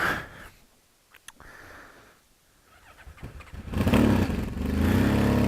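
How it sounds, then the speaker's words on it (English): A carbureted motorcycle engine starts after a few quiet attempts, then settles into a loud, steady warm-up idle close by. "I'm going to let the bike warm up naturally"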